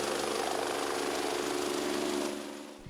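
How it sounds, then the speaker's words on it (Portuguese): A rescue helicopter flies over a road accident scene, a steady loud rotor and engine drone that holds for over two seconds, then fades away. "Até um helicóptero foi usado no resgate às vítimas."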